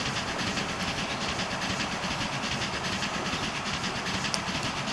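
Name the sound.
train running in Transport Fever video game, BLS mod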